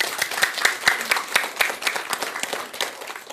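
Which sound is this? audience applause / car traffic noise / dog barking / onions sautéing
audience applause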